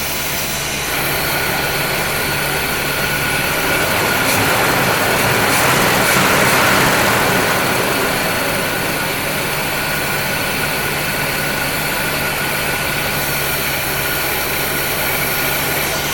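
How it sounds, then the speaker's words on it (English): A loud, steady engine of a 1975 C3 Corvette Convertible idling at a raised, even speed with the choke on, swelling slightly midway before settling back. "Seems like it's idling a little high"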